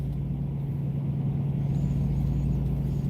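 A truck engine rumbles low and steady at close range for the whole stretch, with no voices over it.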